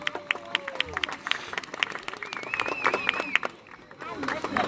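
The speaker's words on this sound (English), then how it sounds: "Give a round of applause for Troop" Scattered applause and clapping from an audience at a scout event honoring a troop, fairly faint and uneven, mixed with crowd chatter, whistles and a voice talking over it.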